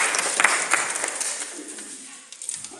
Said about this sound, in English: Incite polite and relieved clapping.